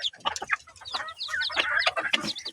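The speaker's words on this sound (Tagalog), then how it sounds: "Ang mga manok ko." Several chickens cluck and squawk close by in a busy, overlapping chorus, with bursts of higher-pitched calls throughout.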